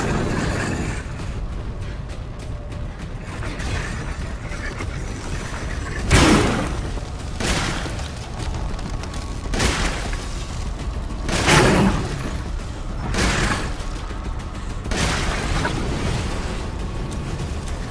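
Gunfire in the video game Resident Evil Village: Shadows of Rose: five heavy, booming shots spaced a couple of seconds apart, each loud with a short ringing tail over a constant game ambience.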